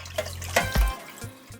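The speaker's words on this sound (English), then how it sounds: "so I'm just giving them a second rinse to get rid of the vinegar." Cold tap water runs over lamb neck pieces in a bowl for a second rinse, a brief splashy gush with a few sharp drips and knocks, fairly close, with no talking.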